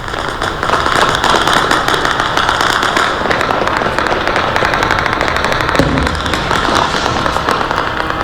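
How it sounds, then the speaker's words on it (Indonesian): Gunfire and explosions ring out across the city of Erbil, Iraq, at night during air defence interceptions, a dense continuous rattle of rapid crackling shots holding loud and steady throughout. "rentetan senjata dan ledakan terdengar di berbagai titik kota Erbil"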